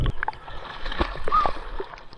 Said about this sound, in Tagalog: lalangoy na tayo mga katamba